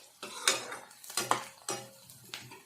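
Onion paste frying in a pan for a Bengali bottle gourd kofta curry, with a utensil scraping and clanking against the pan in four distinct stirring strokes over a faint sizzle, close up.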